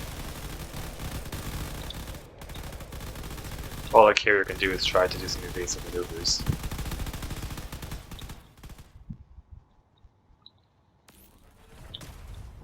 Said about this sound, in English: that corvette over there is hitting it pretty hard with his cannons